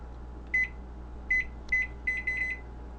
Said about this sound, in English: let's put this microwave on